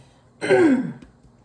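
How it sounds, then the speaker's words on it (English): A single short, raspy throat clear, close and fairly loud, followed by quiet. "you see how, like, I keep clearing my throat?"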